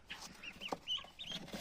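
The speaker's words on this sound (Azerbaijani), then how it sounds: "Burada 5 ədəd belə bir ördək var." A pen of ducklings gives short, high cheeping calls at close range in a quick irregular series. No voices are heard.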